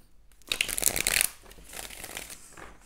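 Tarot cards riffled and shuffled by hand for a reading, a loud crisp burst of card flutter followed by softer, steadier shuffling close by, with no talking.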